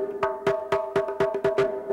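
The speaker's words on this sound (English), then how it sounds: "And the requinta sounds like this." A high-pitched requinta conga struck by hand in a lively pattern of about eight ringing, resonant hits, close and clear with no talking.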